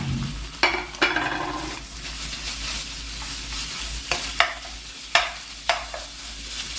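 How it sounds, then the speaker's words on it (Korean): Beef stir-frying in olive oil in a preheated frying pan over high heat, a loud continuous sizzle with repeated sharp scrapes of a utensil against the pan. "고기를 볶을 때 처음에 센 불에서 볶기 시작하시면 되겠습니다"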